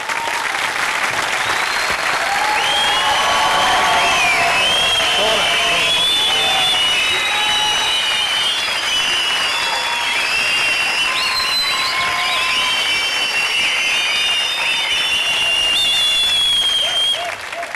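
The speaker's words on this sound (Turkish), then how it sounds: "Ulan beni alkışlıyorlar, sana ne?" A studio audience at a Turkish TV comedy show claps loudly and continuously, a dense, even wash of applause that fills the whole stretch, with a few voices faintly mixed in.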